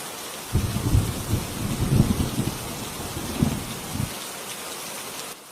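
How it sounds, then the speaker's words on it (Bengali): Heavy rain pours steadily in a Bengali cartoon, a dense hiss with low rumbling bursts like distant thunder swelling through the middle, no voices, ending abruptly. "এত বৃষ্টি হচ্ছে যে আরেকটু হলে ঘরে পানি উঠে যাবে"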